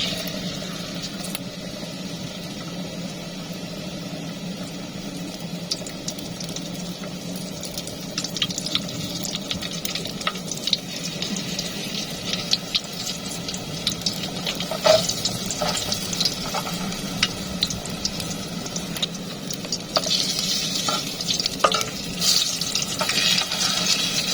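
Chicken pieces frying in hot oil, a steady broadband sizzle with scattered crackles and pops that grows slightly busier over time, with no talking.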